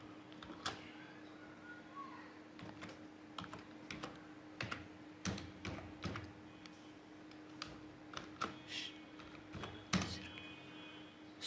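A password is typed on a computer keyboard: quiet, irregular keystroke clicks in short bursts, close by in a hushed room with no talking.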